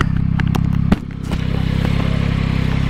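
The chin bar of a Schuberth C5 flip-front motorcycle helmet is flipped up, giving a few sharp plastic clicks and a clack over a steady, loud idling motorcycle engine.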